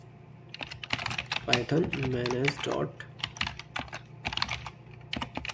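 Rapid clicking of a computer keyboard as a command is typed, close and steady, with brief pauses while someone talks over it.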